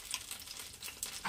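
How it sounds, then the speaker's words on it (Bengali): Spice paste hitting hot oil in a pan for a light Bengali bata fish curry, giving a steady, close sizzle and frying hiss with small bursts of spattering throughout. "ফোড়ন দেওয়ার পর যে মশলাটা করে রেখেছি দিয়ে দিলাম সেই মশলাটা"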